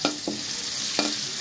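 Onion, a green chili and bay leaf hit hot oil, giving a steady close sizzle broken by a few sharp stirring scrapes of the spatula against the pan.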